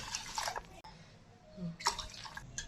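Water poured for cooking rice, a short close splash and trickle into a vessel, then a pause and a second, louder burst of pouring.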